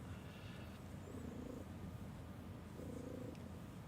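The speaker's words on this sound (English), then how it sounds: "Chainsaw purr going on right now." A cat purrs steadily and loudly up close, a continuous rough rumble with faint faraway sounds in the background.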